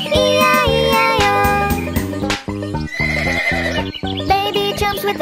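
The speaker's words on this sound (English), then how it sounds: "With a neigh neigh here and a neigh neigh there." A horse neighs amid a bright children's farm nursery song, with whinnying and clip-clop tagged against loud, steady music throughout.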